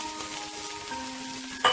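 Kung pao chicken with spring onion frying in a pan, a steady soft sizzle throughout with a brighter burst of crackle near the end.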